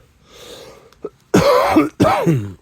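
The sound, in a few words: cough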